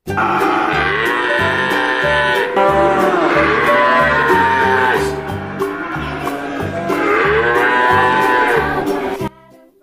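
A cow lows in long, loud, groaning moos, three drawn-out calls in a row that are close and strong, with a rhythmic thumping beat sounding underneath.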